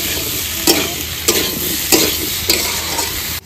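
Fried potatoes tossed into sautéed spices in a pan, a steady sizzle broken by four regular stirring scrapes about every 0.6 seconds, close and fairly loud.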